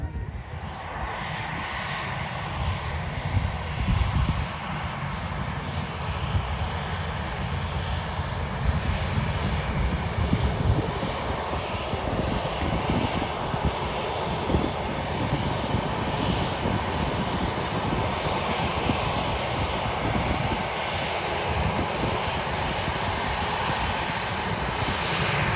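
A Ryanair jet airliner takes off at Manchester Airport, its engines a loud, continuous roar that holds steady for the full stretch, with no talk over it.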